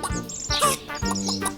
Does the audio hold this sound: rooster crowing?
yes